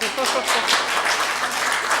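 An audience at a neurodiversity Q&A event breaks into brief applause, a dense patter of clapping hands that carries on steadily while a voice talks over it.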